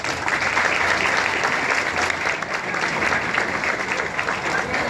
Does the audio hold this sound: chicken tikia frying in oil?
no